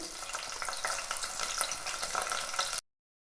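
Bottle gourd pieces and onions fry in oil for a sambar, giving a dense, steady crackling sizzle that holds close and loud for nearly three seconds, then cuts off abruptly into silence.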